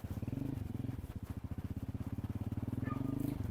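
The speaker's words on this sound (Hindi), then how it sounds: "तारिक साहब की मोटरसाइकिल जो है वो पहले स्टार्ट नहीं हो रही थी" A Pakistani village motorcycle that was hard to start idles steadily nearby, its rapid, even chugging throb continuing throughout.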